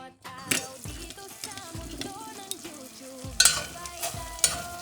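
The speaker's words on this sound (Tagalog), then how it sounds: "Yan mga kayuday, atin na pong haluin at pagkatapos ay atin na tatakpan." Pork belly adobo is stirred in a pan, with a spoon scraping and clinking against the metal over a soft sizzle. A few louder knocks near the end stand out, and a faint tonal background plays underneath.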